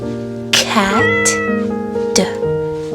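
A cat meows in two or three drawn-out, wavering calls, close and clear, with no other sounds.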